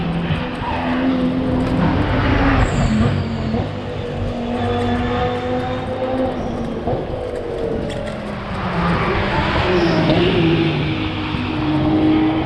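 A BMW M6 GT3 race car on the Nürburgring, its engine howling loudly and continuously as it rises and falls through gear changes and corners, heard close without talk.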